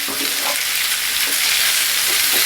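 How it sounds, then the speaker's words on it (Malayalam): Onions for a prawn roast sauté in hot oil, giving a steady, close, hissing sizzle with faint stirring scrapes and no talking. "ഇതൊന്ന് നന്നായി ഒന്ന് വഴലണേ."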